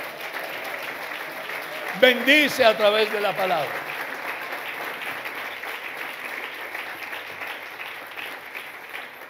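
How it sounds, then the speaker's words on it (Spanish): A church congregation claps and applauds in steady, dense applause through the whole stretch, while a preacher's voice speaks briefly over it near the start. "Un aplauso"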